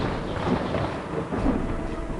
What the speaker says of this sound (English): Suddenly thunder.